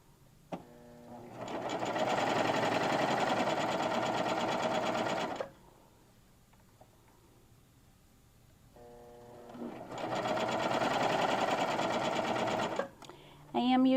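A serger runs a cover stitch along a shirt hem with woolly nylon thread, two sustained whirring bursts of several seconds each separated by a quiet pause, close and steady.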